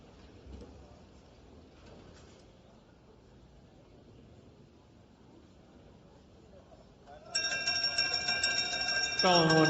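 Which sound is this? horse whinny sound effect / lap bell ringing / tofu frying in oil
lap bell ringing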